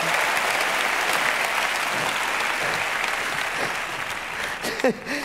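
Sustained applause from a comedy show audience fills the hall steadily, a dense wash of clapping that thins slightly toward the end, with a brief vocal outburst near the close.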